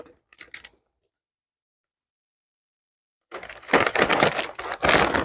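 Frozen ravioli from a bag tumbling into a pan of meat and garlic for a cheesy ravioli casserole, a burst of clattering, rustling impacts after a few faint clicks and a long silence.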